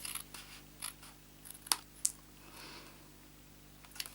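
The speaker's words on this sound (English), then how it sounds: "we're going to cut all of those 3 squares off" Scissors snip card squares off a papercraft gift box in a quiet room, a few sharp, close cuts and light paper scratches spaced irregularly.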